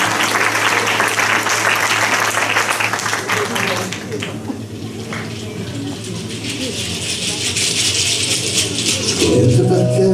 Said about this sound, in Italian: Potete applaudire.